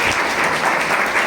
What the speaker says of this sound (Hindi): मेरी बात यदि सही लगी तो एक बार ताली बजा दो।